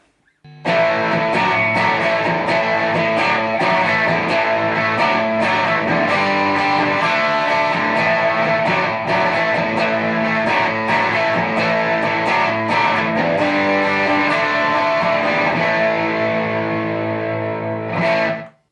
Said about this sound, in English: let's check out how the pedal sounds with the almighty Telecaster